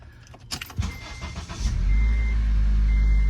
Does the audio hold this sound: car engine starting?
yes